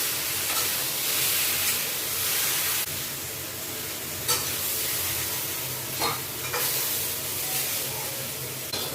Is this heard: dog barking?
no